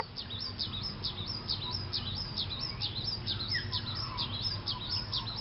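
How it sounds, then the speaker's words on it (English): A mistletoebird calls repeatedly from nearby during a spring wildflower walk through fields of daisies, its short high chirps coming in a steady, rapid series over a constant wash of background outdoor noise. "That's the mistletoe bird."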